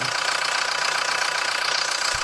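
Small MF (Massey Ferguson) tractor engine running steadily close by, a constant mid-pitched knocking drone with no talk over it.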